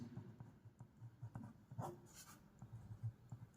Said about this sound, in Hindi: तो मैं यहाँ पर लिख देता हूँ पहले सदिश